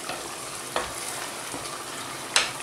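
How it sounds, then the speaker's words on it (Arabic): Sauce for fried sea bream, made with olive oil and vinegar, being stirred in a pan: a soft continuous sizzle with a few sharp scrapes and clinks of the utensil against the pan. "نحرك،"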